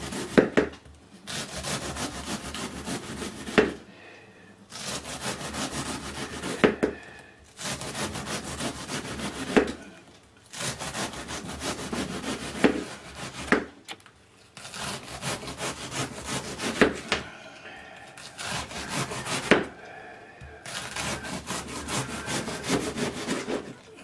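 Knife slicing cabbage into thin strips for homemade sauerkraut, a rhythmic series of crisp, scraping cuts in bursts of a few seconds with short pauses between, close and steady.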